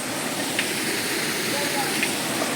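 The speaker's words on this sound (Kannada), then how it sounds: "ನೋಡಿ ಈ ಫಾಲ್ಸ್" Steady rushing water from a waterfall along the trail of the Nethravathi peak trek, a broad continuous hiss that stays close and loud throughout, with faint brief sounds rising over it.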